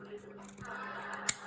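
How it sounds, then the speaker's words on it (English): Scissors cutting folded paper to make a pentagon: a quiet rustle, then one short, crisp snip near the end, close to the microphone and with no talking over it. "if I cut with my scissors down there"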